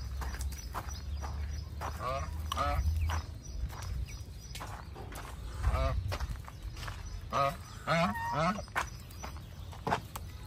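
Pet Pekin ducks on a farm give loud, repeated honking quacks in uneven bursts, close by, with footstep-like shuffling and some low background noise around them.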